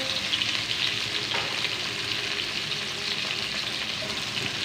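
Cauliflower florets for gobi chicken frying in hot oil, a steady dense sizzle running close and loud throughout with faint occasional stirring clinks, no voices.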